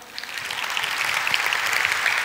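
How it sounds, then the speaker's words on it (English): Audience applause fills a large keynote hall at a tech summit in Seoul, steady dense clapping from a big crowd, loud and sustained throughout with no voices on top. "thank you for the applause"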